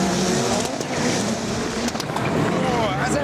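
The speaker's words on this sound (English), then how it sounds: "With launch control and four-wheel drive, these machines accelerate harder than Formula 1 cars." Four-wheel-drive race cars launch and accelerate hard using launch control, giving a dense, continuous roar of engines and rushing noise while someone narrates over it.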